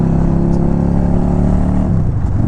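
An older motorcycle, braking hard with noticeable fork dive, produces a steady, loud engine drone that eases slightly toward the end, with no voices present.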